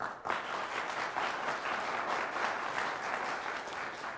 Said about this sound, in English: let's give the round of applause for the Dixon Dukes